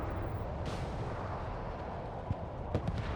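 In the video game Broken Arrow, missiles fire and are intercepted as a constant low rumble of distant booms and bursts, with a few sharper pops standing out near the end. No one speaks.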